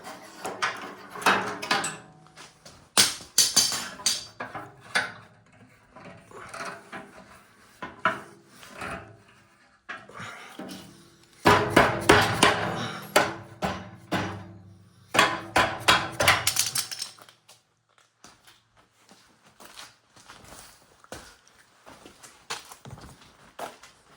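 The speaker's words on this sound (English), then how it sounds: "So now I can take the clamps off that were holding it all in place." Clamps come off a freshly welded steel frame for a homebuilt 5x10 ft utility trailer, giving loud, irregular metallic clunks, knocks and clatters in bursts, with quieter handling sounds in between and no talking.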